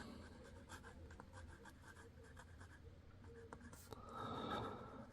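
A Montblanc Meisterstück 134 fountain pen writes on paper, giving a soft, faint, steady scratching of nib strokes close up under a quiet room hiss.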